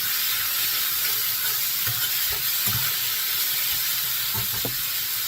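Beef browning in a cast iron skillet, a constant hissing sizzle broken by a few soft scraping stirs of a utensil against the pan.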